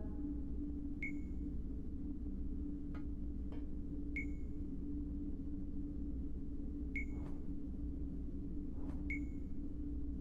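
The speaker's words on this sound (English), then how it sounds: "It's beeping." A quiet electronic device in the video game Dreamfall Chapters beeps in short, spaced pings over a low steady hum, about five beeps with irregular gaps.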